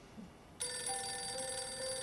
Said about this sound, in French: Bon, le téléphone sonne.